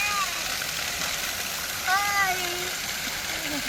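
Hot spring water pours steadily like a shower at a remote natural spring, a broad close hiss and splash running throughout, with faint voices and whistle-like tones briefly over it.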